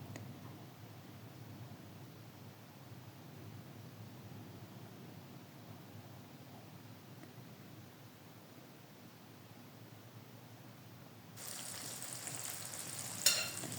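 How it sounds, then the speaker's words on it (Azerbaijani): Floured fish frying in hot oil, a steady soft sizzle holding evenly throughout, growing a little louder and brighter near the end. "Yağ qızdıqdan sonra unladığım balıqları yağın içərisinə əlavə edirəm."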